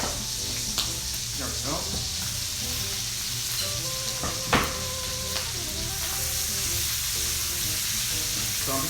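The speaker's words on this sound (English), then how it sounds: "In this same pan, I'm going to add our sausage. And I'm going to fry it up real nice." Sausage frying in a pan, a steady close sizzle with a few clicks and scrapes of stirring, while a voice speaks briefly.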